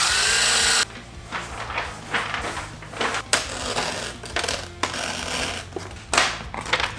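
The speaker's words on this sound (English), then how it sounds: "I'm gonna add another small screw right here" A small screw is driven into the license plate of a Honda CRF300L motorcycle during a fender eliminator install, with a power tool buzzing in several short bursts separated by clicks and handling noises, close and fairly loud, with no talk.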